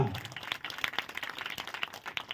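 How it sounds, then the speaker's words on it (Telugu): Congregation at a church anniversary celebration clapping together, a dense, steady patter of many hands with no speech over it. "గట్టిగా చప్పట్లు కొడదామా?"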